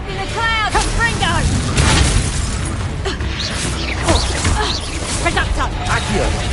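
Confringo blasting spell explosions from the Hogwarts Legacy video game burst and boom repeatedly in a loud, dense battle mix, with shouted spell voices layered over the blasts.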